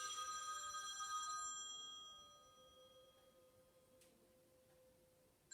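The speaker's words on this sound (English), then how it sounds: "And there's my phone going." A telephone rings with bright bell-like tones over a soft room hiss, fading out after a second or two and leaving a quiet background.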